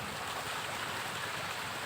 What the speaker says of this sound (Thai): น้ำตกนะครับ